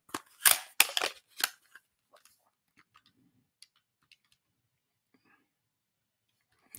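Calculator keys being pressed, heard as a quick burst of several close clicks, followed by sparse faint taps with quiet gaps between them.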